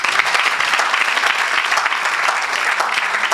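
A church congregation at a Saturday evangelical service applauds, a dense and steady wash of clapping hands that fills the room at full volume throughout.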